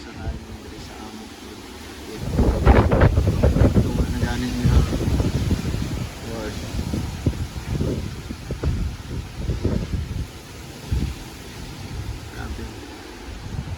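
Strong typhoon wind during Typhoon Odette (Rai) in Talibon, Bohol, a loud, gusty roar and rustle hitting the microphone in surges. A person speaks under it.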